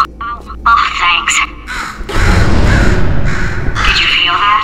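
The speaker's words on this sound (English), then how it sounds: "Could you, murder this bird for me?" A bird caws in the video game Portal 2, giving several harsh repeated calls, loud and close, partly overlapping with a talking voice.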